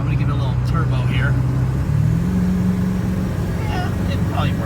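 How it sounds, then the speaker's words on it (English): A 2000 Ford F350 truck engine revving up under acceleration, a loud steady low drone that rises in pitch midway, with faint outdoor noise on top. "I'm going to give it a little turbo here."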